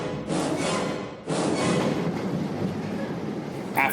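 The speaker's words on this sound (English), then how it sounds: "I headed down into the bowels of the city to the subway." A subway train sound effect for a radio play set in the New York underground: a loud, steady rumbling roar of rolling carriages that dips briefly then surges back and runs on continuously.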